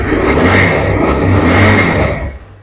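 A 2017 Bajaj Pulsar 220F motorcycle engine at a used-bike showroom, revving close and loud with a throaty, rising-and-falling roar that fades out at the end.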